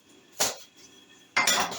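Chicken and onion rings being mixed in a pot give two distinct metal utensil clanks and scrapes, the second longer, with faint sound between them.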